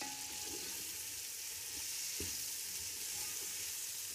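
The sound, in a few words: potatoes added to the pan and frying with spices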